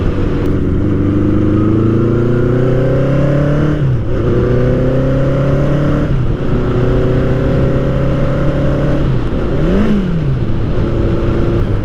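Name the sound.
Norton motorcycle being ridden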